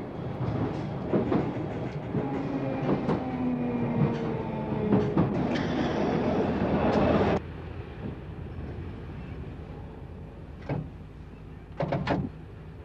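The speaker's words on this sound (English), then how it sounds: "They checked how trains would brake in the rain." Victoria Line underground train running on rails, a dense rumbling clatter with squealing tones and sharp clicks for about seven seconds, then a quieter rumble broken by a few short clanks.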